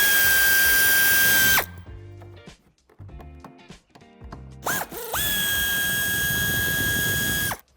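A cordless power drill backs out bumper screws on a 2019 Ford Focus IV Sportbreak: a long high whine, a gap of clicking and rattling, then a short burst and another sustained spin, close and loud.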